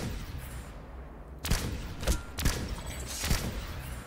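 Battle rifle gunfire from the Hourglass DMR in a video game: four sharp, loud single shots, spaced about a second apart, each with a short booming tail over quiet game ambience.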